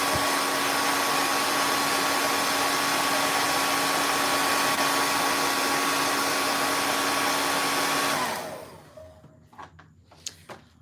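A hair dryer blows on a freshly painted 3D fall leaf, running as a loud, steady close-up drone for about eight seconds before switching off, followed by a few light taps and clicks.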